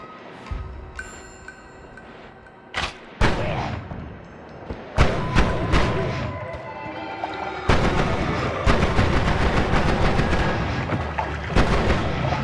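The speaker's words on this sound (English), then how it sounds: "I see them shooting above me." Repeated weapon blasts and booming explosions in the pixel roguelike Noita, sharp thumps landing at irregular intervals and thickening into a heavy, continuous barrage, with a voice talking now and then.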